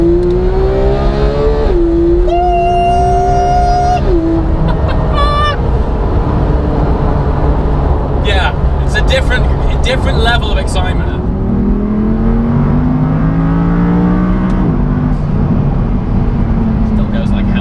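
Loud engine of a Porsche 991 GT3 sports car accelerating through the gears, its note climbing and dropping at each quick shift, heard from inside with someone talking over it.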